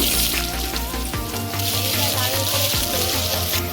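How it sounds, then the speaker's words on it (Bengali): Potatoes frying in hot oil give a loud, steady sizzle with a few clinks from a spatula, heard up close without talk. "আলু লাল লাল করে ভেজে নিয়েছি"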